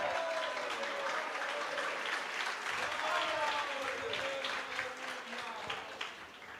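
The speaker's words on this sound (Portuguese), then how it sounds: "Aplauda o nome de Jesus, aplauda." Church congregation applause, steady and sustained throughout, filling the space at moderate volume while a preacher's voice carries over it.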